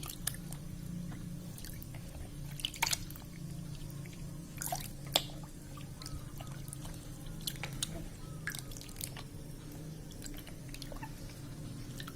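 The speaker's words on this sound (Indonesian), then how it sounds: "cara cucinya begini ya teman-teman ya, diremes aja pelan-pelan tuh" Wheat flour dough squeezed by hand in rinse water to make a meat substitute, giving soft wet squishing and occasional drips over a steady low background murmur, with a few sharper splashes.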